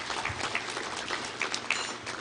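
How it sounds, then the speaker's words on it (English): A room of guests at a touchdown club luncheon applauds, a brief burst of steady clapping with a few sharper individual claps and some faint whoops standing out. "Let's give her a round of applause."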